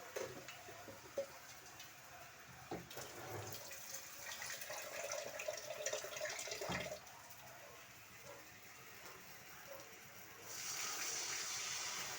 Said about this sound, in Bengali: এখন আমি সামান্য পরিমাণে জল দিয়ে দেবো।